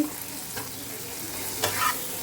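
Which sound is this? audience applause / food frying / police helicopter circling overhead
food frying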